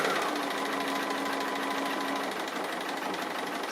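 A sewing machine stitching pear-shaped appliqué onto a quilt, with a continuous close, fast mechanical hum and needle rattle running steadily without pause.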